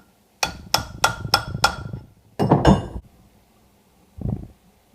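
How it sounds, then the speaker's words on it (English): A hammer strikes a punch on a Ford 9N tractor engine while removing the flywheel: five sharp metallic clinks in a quick steady rhythm, then a louder scraping clatter, and one last faint knock after a pause. Close and loud, with no talk. "I'm literally taking the punch, hitting it, and it drives out a little bit more"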